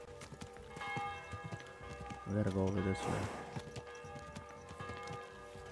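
Horse hooves clip-clop at a steady walking rhythm in the medieval video game Kingdom Come Deliverance 2, soft beneath game music and a tolling bell, while someone talks over them.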